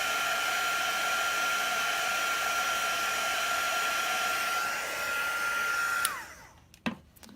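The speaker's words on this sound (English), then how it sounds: "So let's give this a touch of heat." A heat tool blows steadily on chalk paste on a silk screen, a loud even whooshing hum that winds down at about six seconds, followed by a couple of soft clicks.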